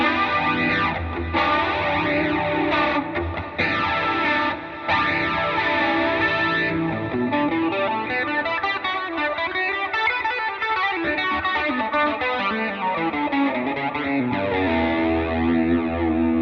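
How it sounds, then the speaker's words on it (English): A Suhr Pro Series M8 electric guitar on its clean bridge humbucker plays sustained chords and melodic runs on its own, bright, full and fairly loud throughout. "here's a clean sound on the bridge humbucker"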